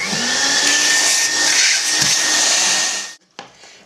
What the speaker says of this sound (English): So now I'm going to vacuum that out.